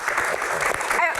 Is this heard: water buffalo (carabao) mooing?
no